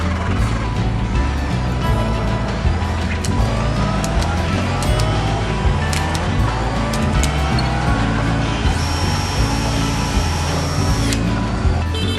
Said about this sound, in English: each finished motorcycle is fired up for the first time and ridden onto a special test platform.